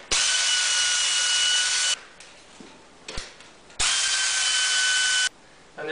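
A power tool loosens bolts on the shroud of a Briggs and Stratton engine, running loud and steady in two long bursts separated by a short pause with a few clanks, close by.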